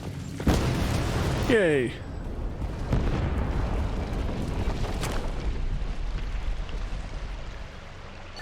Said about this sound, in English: Leave before it goes boom.